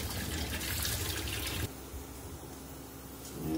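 Hollowed carrots are washed under running water, with a steady rush of tap flow that drops to a softer trickle partway through, then swells again. No one speaks.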